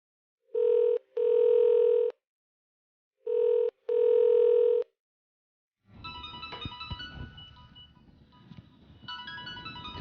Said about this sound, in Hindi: किसका फ़ोन है, उठा लो।